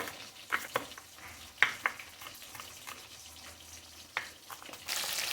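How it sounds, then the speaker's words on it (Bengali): Fish fries in a pan on a home stove, a steady low sizzle with occasional sharper crackles and pops, close and fairly quiet, with no talking. "মাছটা ভাজা হয়ে গেছে, ফির নামিয়ে নেব"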